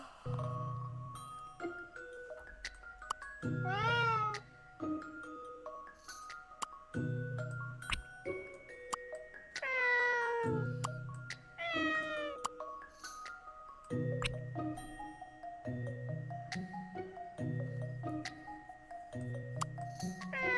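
Game-style cat meows from a Layton's Mystery Journey sliding cat puzzle, bright synthesized mewing tones over a bouncy looping tune with chimes and tinkly accents throughout.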